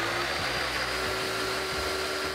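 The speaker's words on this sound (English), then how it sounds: "Then let it blend." A blender runs with warm water and dish soap inside, cleaning its blades; a steady, loud motor whir with churning liquid that holds constant throughout, and no voices are heard.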